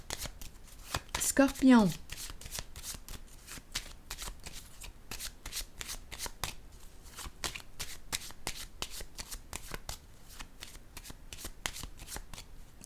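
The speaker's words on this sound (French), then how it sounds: "Je vais déposer une carte ici." Tarot cards are riffled and shuffled with a rapid series of crisp paper flicks and taps, then laid down in quick, regular slaps, close up, with a voice speaking briefly near the start.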